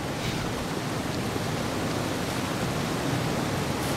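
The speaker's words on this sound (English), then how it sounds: "It sounds like a dam, but I don't see any water." Steady broadband rush of water, like a dam spillway in the game Half-Life 2, a constant loud roar holding even for the whole stretch with no talk.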